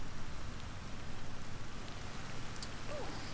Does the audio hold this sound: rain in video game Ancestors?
yes